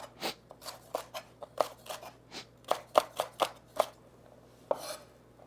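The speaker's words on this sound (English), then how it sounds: "Now we're going to chop the celery." Celery being chopped for a Greek white bean soup, a quick irregular run of about fifteen sharp knife taps on a cutting board, close and clear with no voices.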